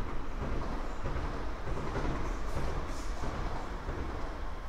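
Train rumbling along the Nuremberg–Fürth railway line beside the U-Bahn near Stadtgrenze station, a continuous, heavy low roar with steady rolling noise throughout and no voices.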